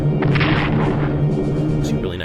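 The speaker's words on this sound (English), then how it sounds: "See, really nice bombing run there." Explosions from a bombing run in the Strategic Command World at War game, a continuous rumbling barrage of booms lasting a couple of seconds, loud and dense.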